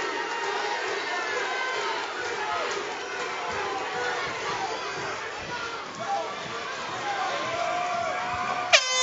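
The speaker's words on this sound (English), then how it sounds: "This crowd is going off their rockers." A loud crowd roars and cheers continuously through the final seconds of an XFC co-main event MMA fight, with a dense wall of voices, scattered shouts and a sharp spike near the end.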